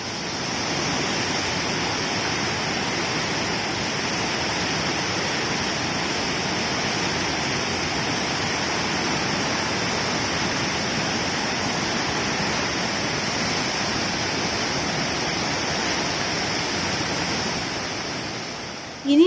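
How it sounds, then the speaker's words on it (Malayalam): The Tejaswini river, swollen after heavy rain in a hilly area, rushes past in a steady, loud, unbroken roar of flowing water with no pauses. "മഴ തുടരുന്നതിനിടെ ചെറുപുഴ തേജസ്വിനി പുഴയിലെ ജലനിരപ്പ് ക്രമാതീതമായി ഉയർന്നു."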